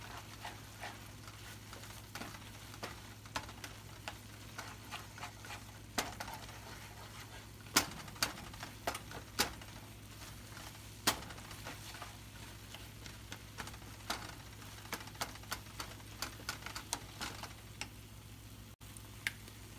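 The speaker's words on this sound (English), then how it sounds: "And then you're going to mix this up real good." A cottage pie mixture with Worcestershire sauce bubbles quietly in a pan, a soft low simmer with scattered light clicks and taps of a utensil stirring throughout, no voices.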